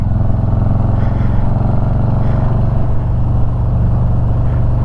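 A Harley-Davidson motorcycle engine drones steadily and loudly as it is ridden fast around a curve on a bumpy road, a continuous low rumble with no talking.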